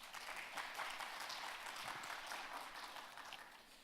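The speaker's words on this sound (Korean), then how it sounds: "여러분 큰 박수로 환영해 주십시오" A large audience at an international finance conference in Jeonbuk gives steady, dense applause to welcome a speaker. The clapping is sustained throughout the few seconds and tapers slightly at the end.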